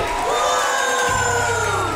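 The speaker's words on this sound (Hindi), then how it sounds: "चलो सब तालियों से उनकी विदाई करो" Game show crowd cheering and whooping as eliminated contestant pairs are sent off, a loud sustained mix of shouts and excited yells close by.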